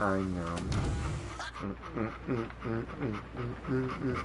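A soft-coated puppy panting in quick rhythmic bursts with brief whimpers, close and fairly loud, following a short stretch of a person talking at the start.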